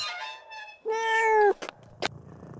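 A hefty rescued cat lets out one clear, drawn-out meow close by, followed by a few short, soft sounds.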